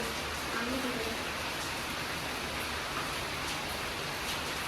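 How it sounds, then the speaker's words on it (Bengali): Rain falls in a steady, dense hiss that fills the whole moment evenly, with no talking and no other sounds standing out. "আগে আমাদের তো বৃষ্টিটা শুরু হয়েছে"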